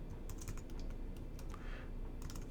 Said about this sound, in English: Taking the text tool, I'm going to click and type the new font name